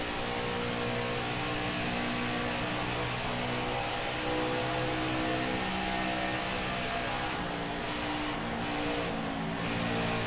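Race car engine in NASCAR Heat 5, an Xfinity Series race at Indianapolis, droning steadily and loudly with a brief dip as the driver lifts off the gas through a corner.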